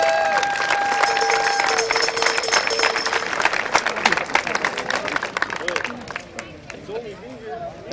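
Crowd applause at a speedway hall of fame induction honouring a former car owner, clapping and cheering mixed with babble and a voice over a loudspeaker, thinning out near the end.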